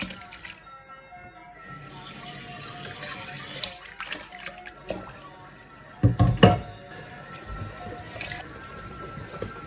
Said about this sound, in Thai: ต้มขนมจีนเสร็จแล้วก็เอามาแจนน้ำอุ่นไว้นะเจ้า เดี๋ยวเอามาซาวกัน